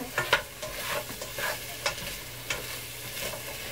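Sausage and apple pieces being stirred in a frying pan, with a soft steady sizzle under repeated close scraping and tossing strokes that come in short irregular bursts, no voices.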